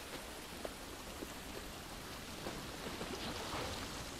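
Steady soft rainfall in The Last of Us video game, a faint even hiss of drops with scattered light patters and no talking.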